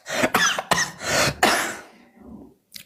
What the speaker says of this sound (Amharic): ይህን ሳል ደረቅ ሳል ይባላል።